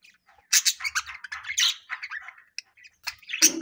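Pet parrots squawk and chirp in a busy, irregular run of short calls while feeding on grain and water at home, with a louder burst near the end and no speech.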